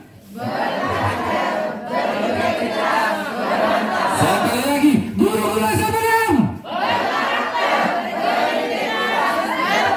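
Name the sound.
teachers shouting a group cheer chant (yel-yel)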